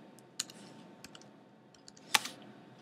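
Typing on a computer keyboard: a few scattered, faint key clicks over a steady quiet hum, close, with no talk.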